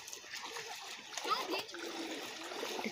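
A swimmer doing strokes in open water near the shore, making faint, continuous splashes and water churning at a distance, partly under children's and adults' voices.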